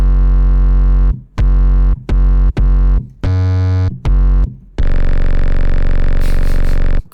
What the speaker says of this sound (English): we are introducing a bass sound, and this one's from Faceplant